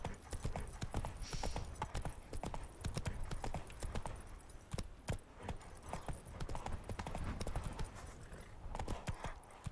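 In The Witcher 3: Blood and Wine, a horse gallops through Toussaint, its hooves drumming in a rapid, steady rhythm of clip-clops, fairly close, with a brief whinny amid the game's ambient sound.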